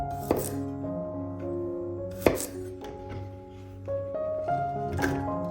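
A kitchen knife chops vegetables and garlic, including onion and pepper, on a board, with a few distinct sharp strikes spaced seconds apart over a steady low background hum.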